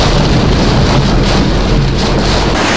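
Heavy typhoon rain pounds city streets in a dense, loud, continuous roar mixed with wind buffeting, with no voices.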